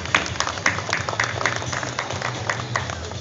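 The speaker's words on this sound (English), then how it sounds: "How about a nice round of applause for Asimo?" Audience clapping after a Honda Asimo robot demonstration at the NBAA 2010 trade show, a fairly soft, steady patter of many hands heard from a short distance.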